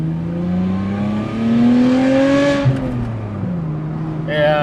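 Warmed-up Lotus Evora engine running steadily, with a smooth rising and falling engine drone that holds at moderate level throughout.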